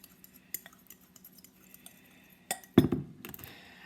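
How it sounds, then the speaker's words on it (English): A fork stirring chocolate cake batter in a mug makes sparse light clinks and taps against the ceramic, then a louder cluster of scraping knocks near the end, close and quiet. "we're just going to take a fork and stir this"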